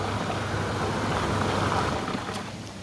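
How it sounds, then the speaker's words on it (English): Waterfalls running on an American Whirlpool 400/800 Series hot tub, a steady, dense rush of splashing water with a low pump hum, continuous and fairly loud with no voices. "then also the waterfalls will come on"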